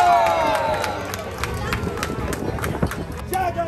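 A crowd aboard a pirate ship claps in a steady, even beat, the sharp claps close and loud over lively crowd chatter and voices.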